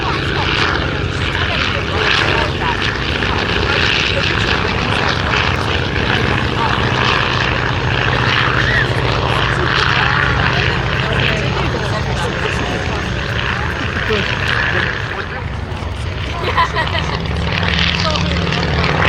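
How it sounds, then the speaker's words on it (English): Avro Anson Mk I, a twin-engine propeller aircraft flying at the RAF Cosford airshow, gives off a sustained, loud droning engine hum with steady tonal bands that swells and fades slightly, while a commentator talks over it. "this one is the only airworthy example of the Anson that first went to war, the Mark I."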